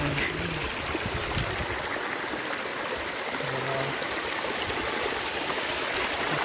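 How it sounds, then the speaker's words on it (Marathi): Continuous rushing of water flowing down from above at a hillside cave temple, steady and fairly loud throughout, like a stream pouring down nearby. "वरून पूर्ण पाणी वाहत येत आहे"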